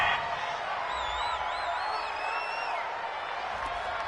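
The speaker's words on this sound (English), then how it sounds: "This home crowd, they're happy with that call." A home crowd in Madden NFL 21 cheers a penalty call with a sustained roar, and shrill whistles weave through the noise over a few seconds.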